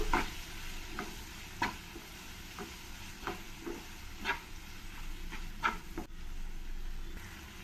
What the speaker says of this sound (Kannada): ಇದೆಲ್ಲ ಸ್ವಲ್ಪ ಚೆನ್ನಾಗಿ ಮಿಕ್ಸ್ ಮಾಡ್ಕೋಬೇಕು